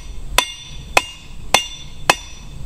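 Four crisp blacksmith hammer strikes on a nail head, evenly spaced about half a second apart, loud and close with a ringing metallic tone.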